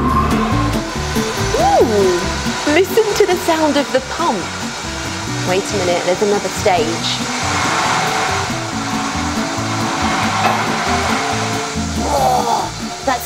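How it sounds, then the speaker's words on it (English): A water park pump runs continuously, its spinning impeller pushing water in a loud, steady whooshing roar while children's voices and talk rise and fall over it. "Ooh, listen to the sound of the pump."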